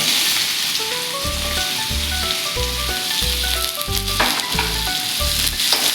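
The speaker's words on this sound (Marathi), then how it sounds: "कांदा आता आपण एक दोन मिनिट आपण छान असा तांबूस रंगावरती परतून घेऊयात" Onion sautéing in oil with mustard seeds, cumin and asafoetida for a sprouted moong usal, a loud continuous sizzle heard close up with a rhythmic series of low thumps behind it.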